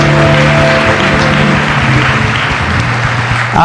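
A church congregation at a revival meeting in LA applauds with loud, dense, continuous clapping, and a tonal hum runs under the clapping for most of its length.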